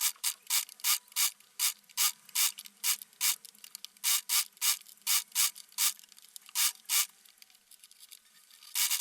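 Sewing machine stitching a rolled hem on a maxi dress, running in a steady series of quick mechanical bursts with short pauses between them, close and clear with no talking.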